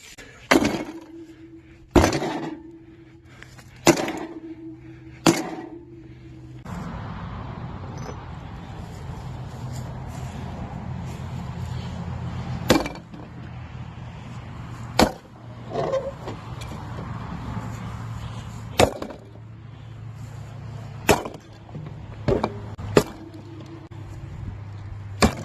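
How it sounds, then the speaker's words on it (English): A mini fridge is being smashed, with about ten sharp, loud breaking blows spaced irregularly over a steady low hum, some strikes in quick succession and others after longer pauses. "Busted right through the back of this thing."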